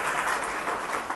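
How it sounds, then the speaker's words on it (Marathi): Audience applause at a Buddhist monk's talk, a brief burst of dense clapping from a crowd, loud and even before stopping abruptly. "एकदा सर्वांसाठी टाळ्या वाजवा तुम्ही"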